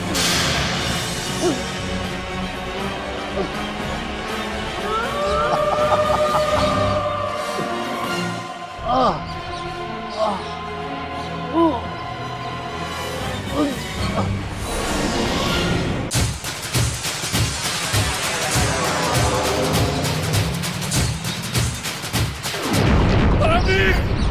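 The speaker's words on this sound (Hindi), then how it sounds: "ये कैसे धमाके की आवाज?" Loud, chaotic crashing and booming with sharp bursts, like explosions and gunfire, continuing throughout amid dense noise, with a heavy rapid barrage near the end.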